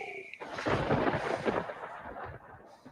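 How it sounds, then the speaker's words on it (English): Thunder rolls and rumbles through a desert storm in Nevada, a loud sustained boom that swells then slowly fades over a few seconds with no voices. "Yes, as you can hear that thunder."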